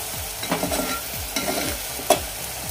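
Spices fry in oil in a pot for bombil rice, a constant close sizzle broken by regular scraping strokes of a spoon as the mixture is stirred, with no talking.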